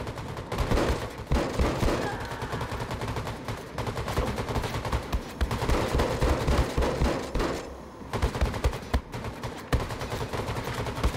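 Rapid, dense automatic gunfire in Wolfenstein II: The New Colossus, loud sustained bursts with brief gaps as enemies are fired on down open lanes.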